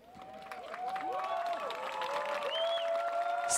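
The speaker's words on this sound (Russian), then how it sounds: "Давайте аплодисментами решим." Audience applause mixed with cheering and whistles from a crowd at a guitar festival in Moscow, building from quiet to a steady, sustained roar over a few seconds.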